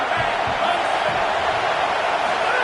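A stadium crowd at a football game roars steadily on fourth down, a loud, sustained wash of cheering and yelling without a break.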